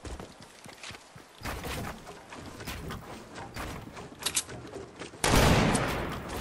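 Gunfire in the Fortnite battle royale game: scattered sharp shots through the first seconds, a busier burst around the middle, then a loud dense crack of fire near the end, with no talk over it.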